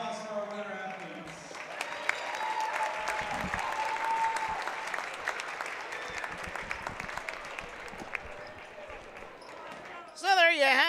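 A gym crowd at a JV girls basketball game between Ridgewood and A-Town applauds the winning athletes with steady, dense clapping for about ten seconds. A voice speaks briefly at the end.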